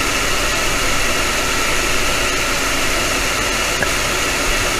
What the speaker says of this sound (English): you'll hear the fan now, of which I can't do anything about. The fan above, the air assist